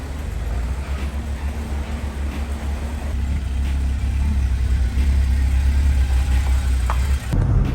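A BMW E30 on a test drive, its engine a steady, loud rumble with mild revving that builds slightly partway through, continuous and close with no talking.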